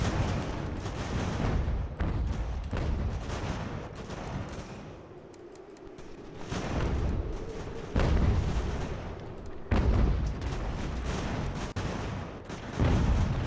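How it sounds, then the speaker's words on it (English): Artillery cannon in the Ultimate General: American Revolution strategy game firing on cavalry, a dense barrage of heavy booms and rumbling gunfire that rises and falls in loud bursts, with a brief quieter lull midway. "The gun is shooting at the cav, but it's not hurting their unit"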